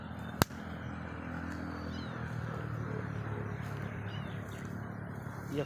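Crying of an abandoned kitten, heard outdoors under steady broadband noise, with one sharp click near the start; the crying is faint and distant and there is no talk.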